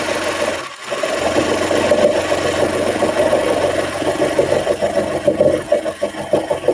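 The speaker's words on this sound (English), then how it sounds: "One more side and then I'm done serging for right now." A serger overlock sewing machine runs steadily and loud, close up, with a continuous buzzing, rasping whir and brief dips as the fabric is stitched, no voices.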